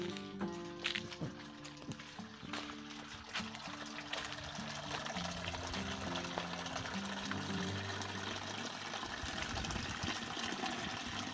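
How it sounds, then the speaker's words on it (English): A steady stream of water pours and trickles for several seconds while planting a coconut, with a low hum and faint tonal background sounds behind it. "We pour water to it."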